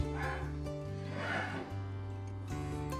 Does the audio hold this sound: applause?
no